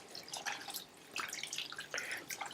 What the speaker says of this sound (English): We're gonna give them a good wash under cold running water.